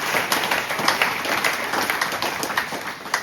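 Crowd applause for wrestlers at the inauguration of a wrestling hall in Sélestat: steady, dense clapping from a gathered audience, even and sustained throughout without breaks.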